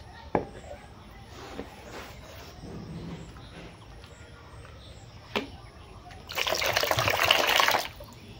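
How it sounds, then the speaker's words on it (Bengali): Water is poured out of a container during a turmeric and sandalwood facial: a quiet background with a few small knocks and taps, then a splashing pour lasting about a second near the end. "আর এখন এই জলটা আমি ফেলে পরিষ্কার জল আবার নিয়ে আসবো।"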